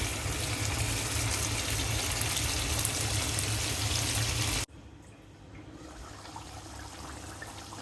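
Water pours steadily into a pan of pabda fish cooked with mustard paste, a close, even rush of liquid that cuts off abruptly, leaving a quieter simmering hiss.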